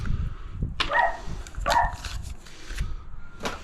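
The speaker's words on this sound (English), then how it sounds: "Dog's barking, doesn't like the sudden noise." A dog barks in sharp, close bursts, three or four yaps spaced about a second apart, reacting to a sudden noise during household DIY work on a power point hole.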